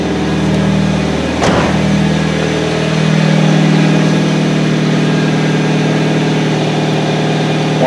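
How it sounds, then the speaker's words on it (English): Hyundai Tucson with a manual gearbox and a mass air flow circuit fault, its engine holding a steady fast idle up close, a constant even hum after a brief knock near the start. "it is up on a fast idle still"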